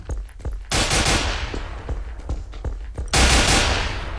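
Rapid bursts of video game gunfire in Garry's Mod, two loud broadband volleys with scattered shots between them, close and dominant with no talk over them.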